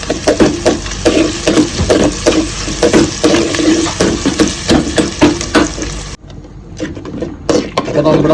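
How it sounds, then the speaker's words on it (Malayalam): Onion, green chilli and ginger frying in a pan: a busy, loud crackle full of rapid pops and stirring clatter that goes on for about six seconds, then drops to a quieter sizzle with a few scattered clicks. "നമ്മൾ സവാള, പച്ചമുളക്, ഇഞ്ചി എല്ലാം ഒന്ന് ടോസ്റ്റ് ചെയ്യാം."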